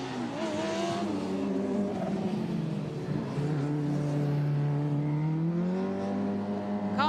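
A Formula Student race car from Wolverhampton drives past a trackside commentary box during the endurance event, its high engine note droning steadily and shifting pitch as it passes close by.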